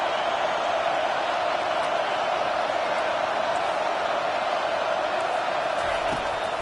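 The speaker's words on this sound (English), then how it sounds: "Here comes this home crowd as the defense tries to get off the field on 3rd down." Home crowd in a college football stadium during a Bruins vs USC game on a third down, a dense sustained roar of many voices, loud and steady throughout without breaks.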